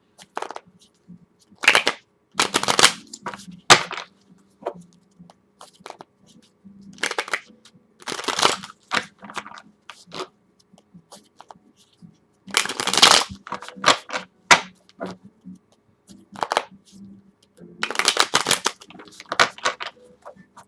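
Bursts of crisp tarot card riffling and slapping come in irregular clusters with short pauses between, close and fairly loud, no talking.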